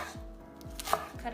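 A knife chops through rolled-up chard on a cutting board, three firm, evenly spaced strikes ringing close and clear with no voices.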